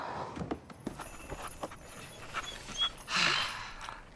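Dog panting close by in quick, soft breathy bursts, with light footsteps or hoof-like clops mixed in and a louder rustle near the end.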